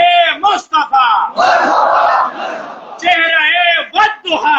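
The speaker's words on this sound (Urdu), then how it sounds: "نعرے رسالت، نعرے حیدری، آمد مصطفیٰ" At a religious speech in Haripur, a large crowd roars back in unison after a speaker's chanted slogans, loud call-and-response with a voice calling and massed voices answering in a sustained shout.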